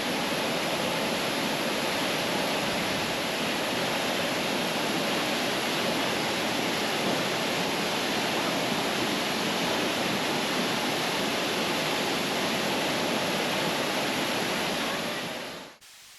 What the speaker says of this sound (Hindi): तेज धार नीचे गिरते हुए चारों तरफ ठंडी धुंध फैला देती है।